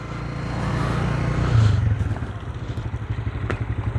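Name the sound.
tractor with trolley moving on road construction site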